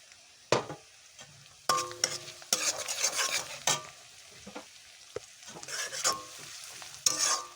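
Ginger-garlic paste frying in a pan, sharp scraping strokes of a spoon stirring in bursts over a quieter sizzle, close by.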